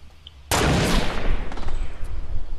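One loud, sharp sniper rifle crack in the video game Fortnite bursts out after a quiet moment, then rings off into a long, rumbling decay.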